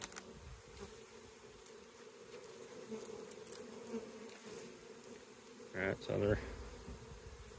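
Honey bees buzz around a busy hive bringing in pollen, a soft steady drone with a few closer passes, while someone talks briefly near the end.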